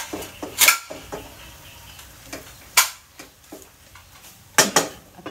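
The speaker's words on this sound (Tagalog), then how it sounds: "Maghain ka na dun ng plato" Plates and dishes clink and clatter as a table is set for a meal, with three sharper bursts of clatter standing out among scattered lighter taps and knocks, all close and moderately loud.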